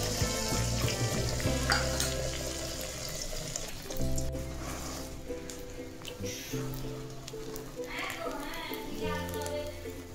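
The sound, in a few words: egg frying in a pan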